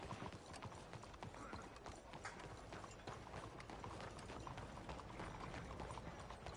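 Horse hooves clip-clop steadily in a video game, a fast, even rhythm of soft thuds under a constant quiet wash of ambient noise, fairly faint throughout.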